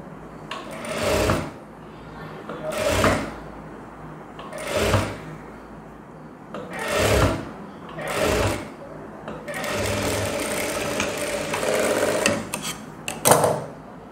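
A sewing machine stitches a blouse in short bursts of rapid mechanical whirring, about seven runs separated by pauses, with a longer stretch of stitching near the end.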